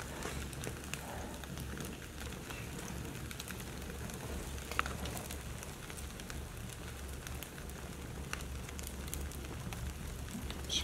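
Dead bees burning in an indoor fireplace during winter, giving a steady low crackling hiss with scattered faint pops that runs throughout without talk.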